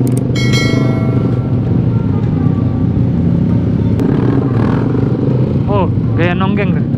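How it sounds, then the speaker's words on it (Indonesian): Loud motorcycle exhausts roaring steadily on a weekend group ride near Bogor, several bikes together close by, with a revving whine rising near the end and voices talking over the engine noise. "Ini knalpotnya berisik bertiga nih"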